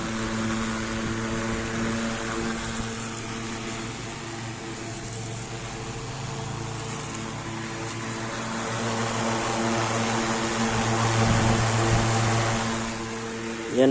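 An electric desk fan running on its high setting, giving a steady, fairly loud whirring hum with a constant motor drone that holds through the whole stretch and swells slightly near the end.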